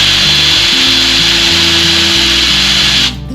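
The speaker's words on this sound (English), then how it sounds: "I like to drill pilot holes first" A power drill bores pilot holes into wood while a toy box is assembled. It makes a loud, continuous whine whose pitch shifts as the bit bites, then it cuts off abruptly just before the end.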